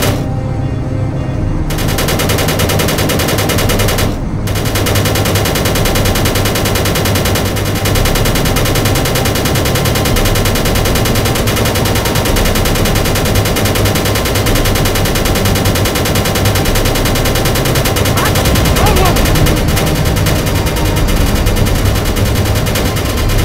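Continuous weapon fire in the space game Space Engineers during a ship fight, a dense, loud, unbroken rattle of rapid shots lasting throughout with no talk.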